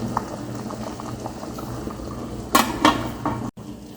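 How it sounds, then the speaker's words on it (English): Potatoes bubble in a pot of boiling water for a roti filling, a soft steady burble close by. Sharp clinks of a pot or lid ring out near the end, with no voices. "Potato boiling."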